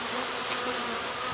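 Honey bees buzz steadily in an open hive during an inspection after smoking, a dense continuous drone close by with no talking.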